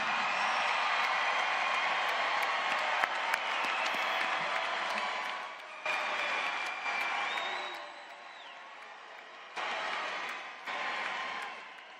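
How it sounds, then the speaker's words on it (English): Graduates at a Florida State spring commencement applaud their families, a broad, sustained wave of clapping with a few cheers that drops out and resumes in bursts, thinning toward the end. "salute them with your applause"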